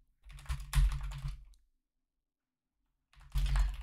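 Two close bursts of brisk keystrokes on a computer keyboard enter a git pull command, a rapid clatter of clicks, then a pause of silence, then more typing.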